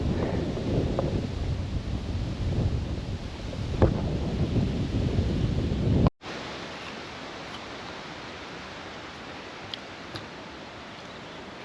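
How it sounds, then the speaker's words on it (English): Strong wind on an outdoor hiking trail in southern Sweden buffets the microphone with a loud, steady rushing roar, then drops to a calmer, quieter wind hiss after an abrupt break halfway through. "And you can see it's so windy."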